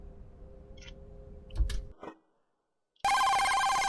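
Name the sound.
telephone ringing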